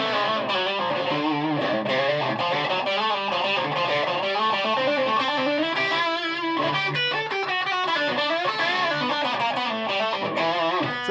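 An electric guitar is played through a 1991 distortion pedal, giving thick, saturated, sustained notes and chords in a continuous phrase, moderately loud, with no one speaking.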